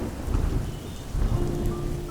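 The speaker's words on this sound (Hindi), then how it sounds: "तेज बारिश, बादलों की गरजने की आवाज़, ठंडी हवाएं" Heavy rain pours in a dense, steady hiss while deep thunder rumbles close and loud, swelling twice across the short stretch with no voices.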